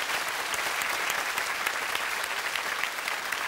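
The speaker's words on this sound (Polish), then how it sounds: "Brawa dla nich." A cabaret show audience applauds steadily, filling several seconds with an even wash of clapping from a crowd at moderate distance and no speech on top.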